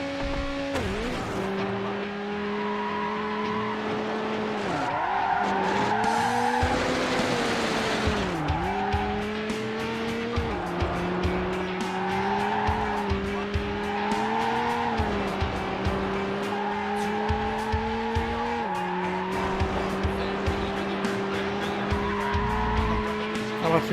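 A car drifting in a PlayStation racing game, engine whining in sustained notes that dip and climb through gear changes, with repeated bursts of tire squeal over about twenty seconds, loud and close, no talking.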